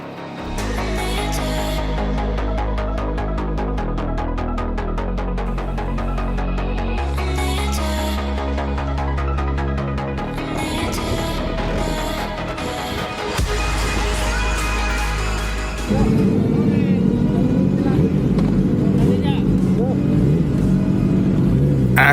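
The Kawasaki ZX10R sportbike 'Green Tukijo', running Motul oil at Mandalika, roars loudly and continuously up close, its engine note shifting pitch as it revs up and settles through the gears.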